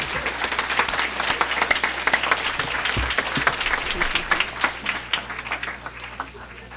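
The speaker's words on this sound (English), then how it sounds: "one last round of applause for them" Steady round of applause from the audience at a board of education meeting, dense continuous clapping at moderate loudness that slowly thins toward the end.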